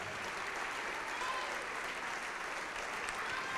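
A church congregation clapping during an evangelical service, a continuous even patter of applause, moderately distant and steady throughout, with voices faintly mixed in.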